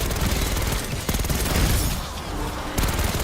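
Sustained automatic fire from a GPMG-7 belt-fed machine gun in Black Ops 6, a dense, loud, continuous rattle of rapid shots with brief breaks near one second and just before three seconds, no voices.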